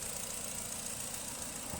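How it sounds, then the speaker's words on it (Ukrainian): A 2008 Nissan Tiida with a 1.6 petrol engine and automatic transmission idles quietly, a soft steady hum with a faint even rumble and no other sound over it. "Мотор працює ледь чутно"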